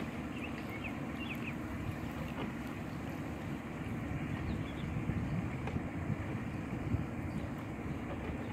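A Shellback dinghy is rowed across open water on a cloudy day, with a steady wash of water and wind noise and faint, irregular splashes throughout. There is no talk.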